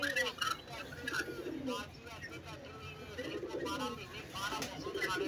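Pigeons coo softly and repeatedly in a flock, some of them young birds about two months old, with a voice speaking nearby.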